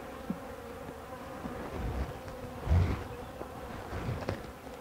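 A close, steady buzzing of many honeybees in a hive hums continuously, with soft bumps and rustles rising briefly in the middle.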